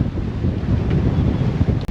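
Wind and waves aboard a sailing boat running wing-on-wing: steady, loud rushing wind buffeting the microphone over continuous sloshing water, with no voices.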